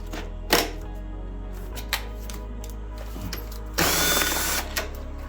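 A power drill works an 8mm seat screw on a Husqvarna, KTM or GasGas motorcycle, with short whirring bursts, a couple of clicks and one longer buzzing spin over a steady low hum.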